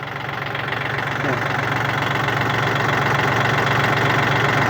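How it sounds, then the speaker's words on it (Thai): A tractor engine idling steadily in a mid-low register, a continuous rumbling drone with a faint knocking rhythm, close by and fairly loud throughout. "ฟังเสียงเครื่อง"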